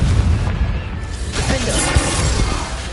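A fiery Confringo blast curse goes off in Hogwarts Legacy, a loud rumbling boom with crackling burst texture that spreads across dense game noise.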